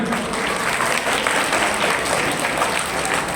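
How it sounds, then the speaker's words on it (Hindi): Dense audience applause at a gathering, steady and loud throughout, a wash of many hands clapping with no pauses. "जोरदार तालियां"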